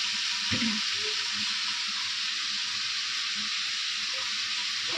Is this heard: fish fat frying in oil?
yes